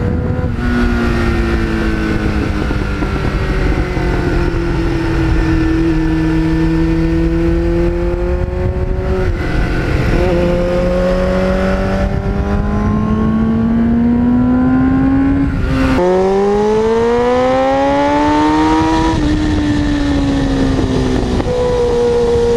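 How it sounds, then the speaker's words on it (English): A restored 1989 Kawasaki GPX750R motorcycle with a Muzzy muffler runs loud and close. Its engine note rises and falls through several revs and gear-like sweeps, with no talking. "I settled on the Muzzy, and every time somebody rides behind me, the first comment they make is, "Oh, I love the sound of that bike,""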